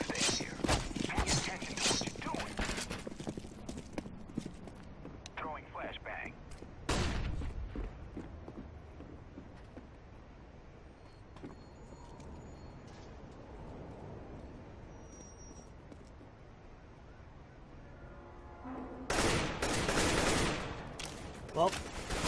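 Gunfire in the video game CS:GO, with an AK rifle in play, comes in dense rapid volleys at the start and again near the end, with a single loud shot in the middle and quieter game noise between.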